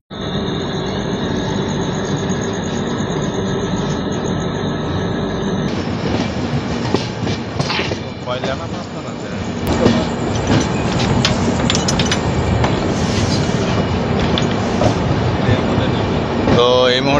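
A Humsafar Express train rolls into Kharagpur Junction station, heard from the rear of the train as a loud continuous rumble with wheel clatter and squeals. Voices come and go over the noise.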